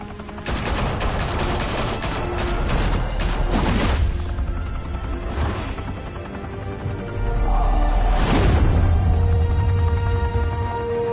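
Loud bursts of gunfire in Batman: The Telltale Series, rapid volleys of shots in several clusters with booming low impacts between them and no voices.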